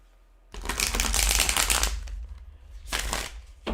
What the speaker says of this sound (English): they're hard to shuffle. The cardstock is very thick.